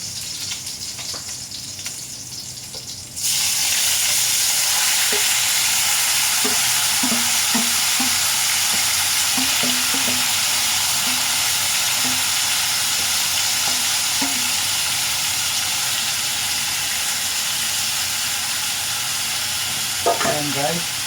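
Meat stir-fried in hot oil for Ilocano igado starts sizzling loudly and abruptly after a quiet few seconds, then keeps up a steady, close hiss with light scattered clinks of stirring.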